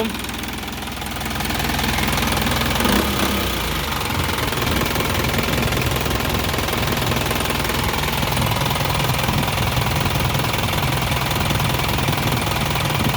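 A used 2006 Isuzu NKR 130 hp six-wheel truck engine runs loud and close with a harsh, knocking diesel clatter that rises as it revs and then holds a steady rough drone, with no talk over it.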